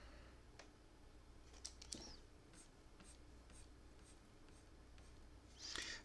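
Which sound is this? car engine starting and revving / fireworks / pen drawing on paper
pen drawing on paper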